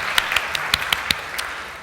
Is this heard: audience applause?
yes